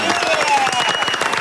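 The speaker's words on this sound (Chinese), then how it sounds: "掌声鼓励" A studio audience applauds on a Taiwanese TV cooking show, a dense, steady wash of clapping that stays loud throughout, with voices and a faint tone running underneath.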